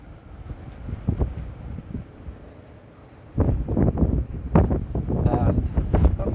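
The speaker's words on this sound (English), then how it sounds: "It's really strong wind." Strong gusting wind buffets a headphone microphone outdoors, producing a heavy low rumble that turns louder and rougher partway through, with a person talking beneath the noise.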